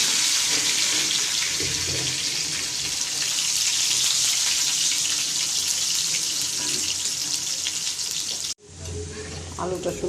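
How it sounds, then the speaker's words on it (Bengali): Boiled potatoes fry in a pan of hot oil with a loud, steady sizzle that runs close for most of the stretch. The sound drops out abruptly near the end and returns more softly. "আলুটি ভাজবো।"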